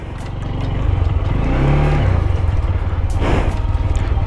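A big motorcycle with a large tank sets off on a test ride. Its engine revs and pulls away with a steady, rough throb that builds in loudness over a few seconds, close to the listener, with no speech.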